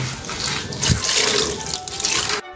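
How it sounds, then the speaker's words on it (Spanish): Water pours steadily onto a freshly laid cement floor, a continuous close splashing and gushing rush that runs for a couple of seconds before cutting off abruptly. "Y aquí le vamos a ir echando el agua."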